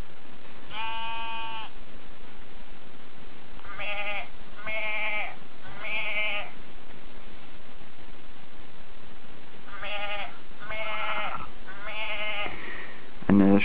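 Synthetic sheep bleats from the maeSheep game on a Nokia N900 handset, several short bleats in two clusters separated by a quiet gap, clear and fairly loud over a constant background hiss.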